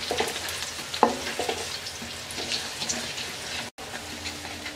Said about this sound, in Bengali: রসুনটাকে হালকা ভেজে নেব।